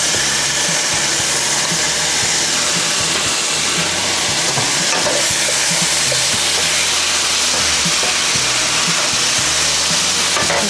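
Minced garlic sizzles loudly in a hot pan with ground beef for a stir-fry, a continuous close hiss and crackle with occasional scraping stirs.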